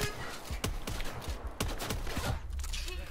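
Several sharp gunshots from a Call of Duty Black Ops 4 match, fired in close irregular bursts over a steady game backdrop.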